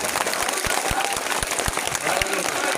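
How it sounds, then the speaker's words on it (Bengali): An audience claps at a political rally in a ward, a dense patter of applause with speaking voices and crowd noise mixed in. "সবাই করতালি দেন"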